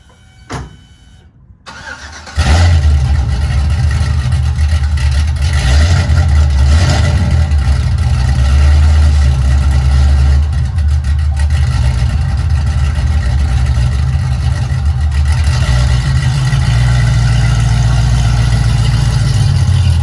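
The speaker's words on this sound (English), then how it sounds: "I'm gonna move the car" A car engine cranks and catches after a brief pause, then settles into a loud, steady idle with low rumbling that continues throughout as the car is moved, with slight variations in engine tone.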